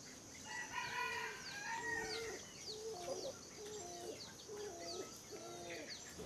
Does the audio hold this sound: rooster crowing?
yes